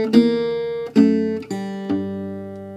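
Fingerstyle blues guitar walking bass line in bar 7: four plucked bass notes stepping along at a steady pace, each ringing with warm sustain over chord tones, played alone and close.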